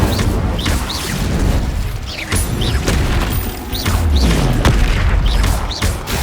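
Spell-casting blasts in the video game Hogwarts Legacy, repeated loud booms and crashing impacts piling up in a dense, continuous barrage of combat effects.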